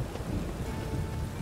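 Steady downpour of rain with low rumbling thunder in a Witcher 3 video game scene, a dense continuous wash filling the foreground with no voices.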